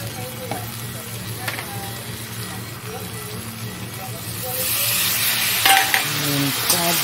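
Tomatoes cooking in a pan with a little water, a steady sizzle under scraping stirs and occasional utensil clinks, swelling into a louder hiss partway through.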